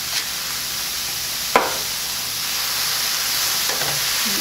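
Zucchini with Italian herbs sizzles steadily in a frying pan as it is stirred, a continuous hiss with a single sharp scrape of the utensil partway through and faint clinks near the end.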